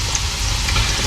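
Squid calamari frying in hot oil in a small pan, giving a steady, close, continuous sizzle and crackle with no talk.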